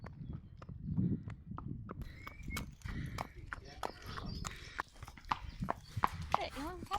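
Horse hooves clip-clop in a steady walking rhythm during a countryside ride, close and distinct, with a person talking over them and a few other faint outdoor sounds.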